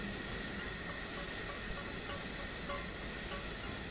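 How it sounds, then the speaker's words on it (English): Train brakes on a freight train in Train Simulator's Sherman Hill route let out a continuous, even hiss of escaping air that holds steady throughout. "Probably want a bit more on the brakes than that."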